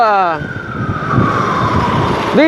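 A loud, close ambulance siren in New York City wails steadily, its pitch sliding as it rises and falls, with traffic rumbling underneath.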